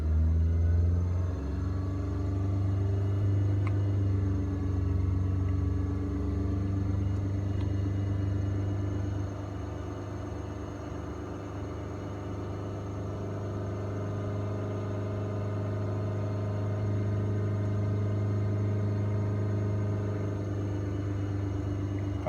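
A Suzuki SX4 engine is held at about 3,000 RPM, a steady, moderately loud mechanical hum and rumble that holds an even pitch throughout with no talking.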